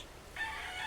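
Broodcock rooster breaks into a crow partway through, a brief, moderately loud call cut short, heard alone without talk.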